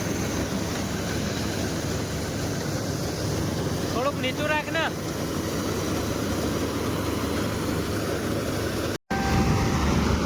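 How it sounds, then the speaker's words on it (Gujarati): A paddy harvester with a 9 hp engine and a six-and-a-half-foot cutter works a rice field at night, giving a steady dense engine roar and rumble throughout, with a brief voice speaking over it. "મશીન આવું ચાલે છે આપણું"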